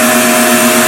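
A loud, constant electric whir with a strong steady hum from a Revair hair dryer blowing at full power close by.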